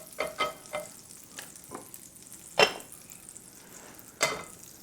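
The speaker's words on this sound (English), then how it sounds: "the butter should melt and sizzle right away" A rubber spatula stirs and scrapes through food in a non-stick pan over melted butter, with soft sizzling beneath scattered close scraping strokes and a few sharper utensil knocks.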